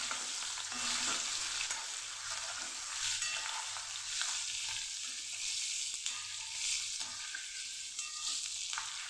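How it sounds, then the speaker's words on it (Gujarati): Green chillies sizzling and frying in hot oil, a steady crackling hiss throughout with occasional stirring, close and moderately loud, no talking. "અહીંયા આપણું તેલ સરસ ગરમ થઈ ગયું છે તો આપણે મરચાંને અહીંયા ઉમેરી દઈશું સરસ આપણે સાતળી લેવાના છે તેલમાં"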